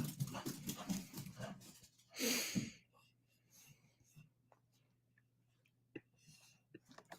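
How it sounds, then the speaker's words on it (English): A pet dog pants and whimpers indoors, with soft, breathy rasps and a brief louder burst near the middle, while quiet room noise and a low hum continue underneath. "There goes my dumb dog."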